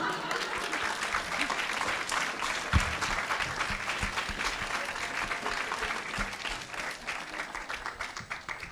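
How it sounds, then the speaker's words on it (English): Audience applause at a media awards event, a broad, continuous clatter of many hands that carries on for several seconds and slowly tapers toward the end, with a few louder nearby claps standing out. "everyone deserves a round of applause"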